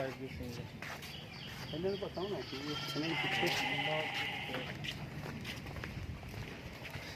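A horned goat resembling a markhor bleats in a repeated, wavering call at moderate distance at the Sultan Bahu shrine grounds, while people talk over it and footsteps and other outdoor ambience continue.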